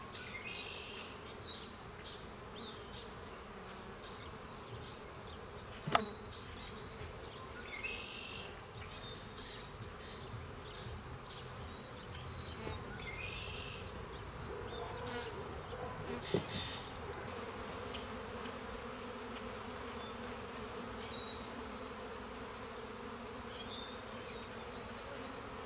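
Honey bees buzz around an open hive during early spring beekeeping, a soft continuous hum with individual insects droning closer and away, and a few faint clicks and knocks of hive work scattered through.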